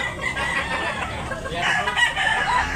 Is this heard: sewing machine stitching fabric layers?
no